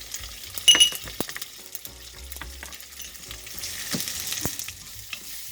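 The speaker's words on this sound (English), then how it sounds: "Cook the onions, fresh ginger," Onions and fresh ginger fry in a pan for a fish curry, giving a steady close sizzle with scraping stirs and a few sharp metallic clinks.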